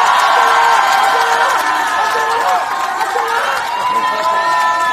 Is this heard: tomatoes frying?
no